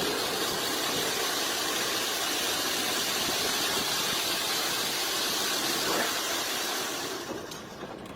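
The Fairy Queen, the world's oldest working steam locomotive, runs nearby at a platform with a loud, steady hissing roar that eases off toward the end.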